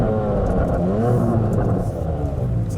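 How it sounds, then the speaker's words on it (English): A Chevrolet Corvette C8 Z06's engine, loud and close, rising and falling through crisp downshifts with sweeping revs, heard from inside the car. "So you hear the downshifts nice and crisp"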